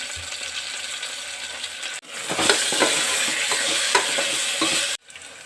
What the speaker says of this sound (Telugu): అల్లం వెల్లిగడ్డ ఇప్పుడు పుదీనా వేస్తున్నా